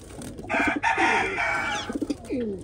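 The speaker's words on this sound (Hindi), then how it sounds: "कबूतरी देखें, कबूतर की मस्तियाँ चेक करें" A pair of Salara golden pigeons coos nearby, giving soft, throaty bubbling calls in short rhythmic runs with sustained droning hums between them, clear and up close.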